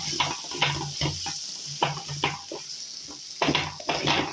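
Elephant foot yam simmers with tamarind water in a pan as a spoon stirs it, making repeated scraping strokes and wet clatters over a steady sizzle, close and fairly loud, with no voices.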